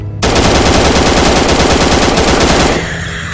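Automatic gunfire in the horror video game Slender Man Must Die, set in an underground bunker, a loud rapid burst of shots lasting about two and a half seconds that cuts off abruptly into quiet game ambience.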